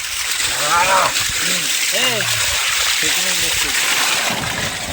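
Steady rushing water from a bore well splashes loudly and continuously by village fields, with several bird-like calls rising and falling over the top.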